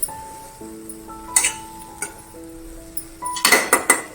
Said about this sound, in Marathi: चांगली भाजी हलवून घ्यायची